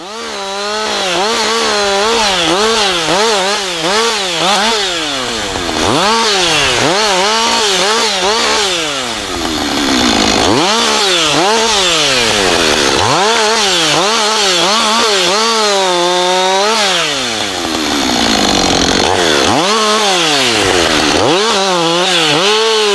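A loud, close chainsaw cutting timber during a harvesting operation, its engine revving up and down in repeated surges as the chain bites through wood, running continuously with no talk.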